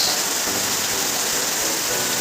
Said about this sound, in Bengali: হঠাৎ কি জোরে নামছে বৃষ্টিটা এই যে বারান্দা তো পুরো ভিজে গেছে